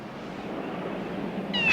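A cat meows once near the end, a brief close call rising over a quiet, steady background hum.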